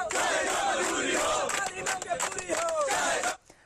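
Students at a protest march, stripped half-naked in bitter winter cold, raise loud massed shouts and rhythmic slogan chants from a close crowd that cut off abruptly at the end.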